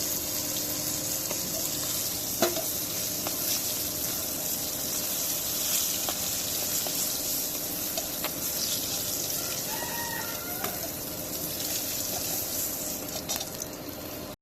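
Pieces of rohu fish fry in hot oil in a pan for a fish curry, giving off a steady, hissing sizzle at moderate loudness with a few small pops and clinks.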